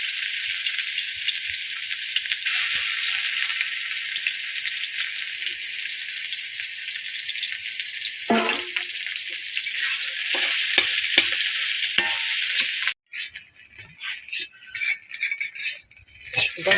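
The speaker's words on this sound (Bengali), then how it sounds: "এই দেখেন রান্ধনি আর কালি জিরা দিলাম ফোড়নে।" Radhuni and kalonji seeds tempering in hot oil in a home kitchen, a loud continuous sizzle with rattling stirs, then a sudden cut and quieter scraping.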